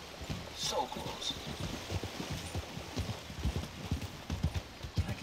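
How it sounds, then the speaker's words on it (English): Rapid clip-clop of galloping horse hooves in Red Dead Redemption 2, steady and close, with a brief whinny-like cry early on and scattered background noise. "Whoa, horse, stop."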